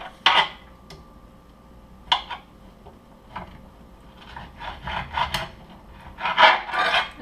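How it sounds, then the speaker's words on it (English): A knife slicing raw fish into thick pieces for sushi rolls, giving soft rasping strokes and scrapes against a board, a few sharper cuts spaced out then a quicker cluster near the end, fairly close and quiet. "I'm going to cut the slices"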